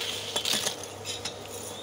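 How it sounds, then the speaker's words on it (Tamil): A metal spoon clinks a few times against a pot while sugar goes into boiling sago pudding, light quick chinks over a soft steady simmer. "ஒரு 3 ஸ்பூன் சர்க்கரை சேர்த்துவோம்."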